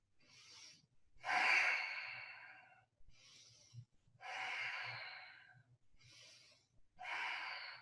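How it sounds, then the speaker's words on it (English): Slow, deliberate breathing during a yoga shoulder blade stretch, with several audible breaths in a steady rhythm, close and fairly soft. "Take a few breaths here."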